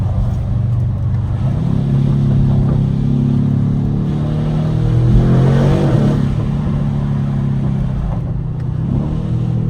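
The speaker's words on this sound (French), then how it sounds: "Et elle fait des retours d'échappement" An Aston Martin DBX S SUV's engine hums and swells in a steady, loud rev from inside the cabin, rising to a louder surge mid-way before settling, with crackling exhaust pops around the peak.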